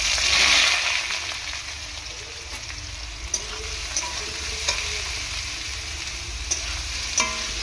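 Potatoes tossed into a hot frying pan with dried red chilli for a vegetarian white potato curry, stirred steadily with a spatula over a constant sizzle, with a few sharper scrapes and clinks of the utensil against the pan.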